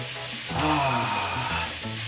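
Butternut squash sizzles in a pan for a curry with a steady, close hiss, while a low humming tone plays over it.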